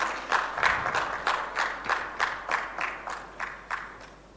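Audience at a microfinance tech summit clapping in a steady rhythmic beat, about a dozen even claps heard from a moderate distance and fairly soft, with no voices over them.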